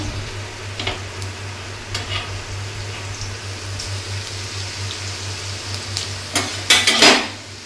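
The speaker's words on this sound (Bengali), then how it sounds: "তেল গরম হয়ে গেছে। এবার রসুন গ্রেট করে রেখেছিলাম ওটা দিলাম" Grated garlic sizzles in hot mustard oil in a pan, a steady frying hiss with scattered light spoon and pan clinks and a louder burst of scraping near the end; close, no speech.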